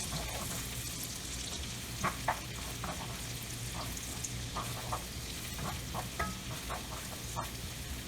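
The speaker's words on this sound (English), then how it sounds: "Now let's add our minced onion. Let's wait till this come out translucent and aromatic." Minced onion frying in a pan for chicken fettuccine Alfredo gives a steady close sizzle and crackle, with faint stirring clicks and no talk.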